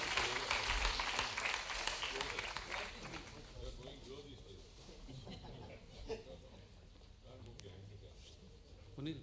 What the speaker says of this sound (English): Please give a big round of applause for all the respected people present on the dais